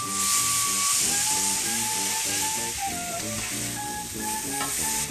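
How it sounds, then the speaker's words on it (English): Pork tenderloins browning in olive oil in a hot pan, a loud continuous sizzle and hiss with a rhythmic low droning hum running underneath throughout. "add some olive oil and then throw my tenderloins in there to brown them on all sides"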